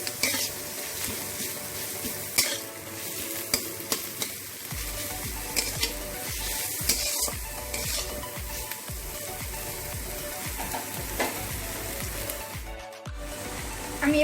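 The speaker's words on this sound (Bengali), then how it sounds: "এগুলোকে আমি একটু ভালো করে মিশিয়ে দেব।" Grated ginger and garlic sizzle steadily in hot oil in a pan while being stirred, with dense frying crackle throughout and occasional scrapes of a spoon against the pan.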